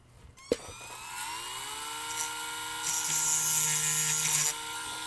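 A power drill spins up after a sharp click and whines steadily, pitch settling into a sustained high drone that grows louder as it bites into the work, close and alone with no talk.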